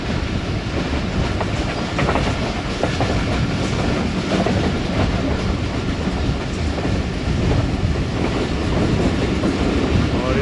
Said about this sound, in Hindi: ये दोस्तों ट्रेन हमारी कल्याम अवान रेलवे स्टेशन से पास थ्रू हो रही है।